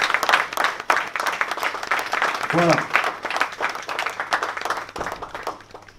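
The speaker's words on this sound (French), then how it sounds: "Je pense qu'il mérite plus d'applaudissements que ça" Audience applause at a conference hall on orphaned children, a burst of clapping that carries on steadily and fairly close, with someone speaking over it and a short voiced interjection partway.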